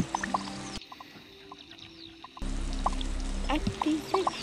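Water pours from a cold-water tap in the Toca Boca video game, a steady hissing stream that starts, cuts off briefly, then runs louder and fuller, with small chirping game sounds scattered over it.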